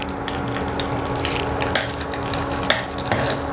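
Oil sizzles and spits in a kadai with a bay leaf frying in it, a dense crackling hiss broken by a few brief clinks and spatters.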